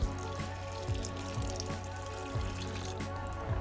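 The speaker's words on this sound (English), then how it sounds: "And finally, let's add some water." Water poured into a cooking pot holding potatoes, porcini mushrooms and salt, a steady close trickle and splash with a few brief louder surges and no talking.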